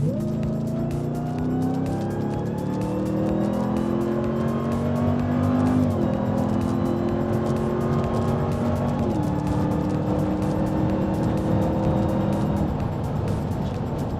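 A Ram TRX pickup truck accelerating hard, its steady engine roaring under load, pitch climbing in long sweeps that drop back at each gear change before rising again, loud and close.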